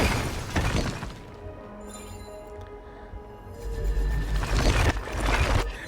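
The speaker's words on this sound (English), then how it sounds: "I'm just smashing it and repairing it and smashing it again." An object shatters in the video game Honkai: Star Rail, a loud crash of breaking debris over a dense layer of game sound and music, followed by a second heavy smash near the end.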